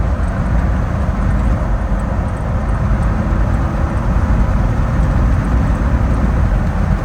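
A 2004 Jeep Wrangler TJ, freshly built, drives along with a loud, steady engine drone and road roar that holds an even level throughout, without distinct gear changes standing out.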